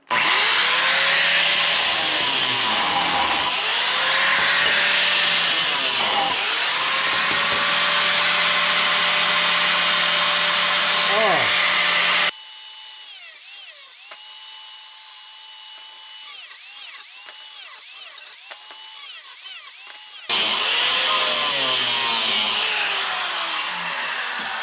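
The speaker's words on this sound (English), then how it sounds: "We're just gonna cut it with the grinder." Angle grinder cutting through a bolted, tar-coated metal part during scrap salvage: a loud, close grinding whine with pitch sags as the disc bites, easing to a thin, lighter whine midway before the heavy cutting resumes.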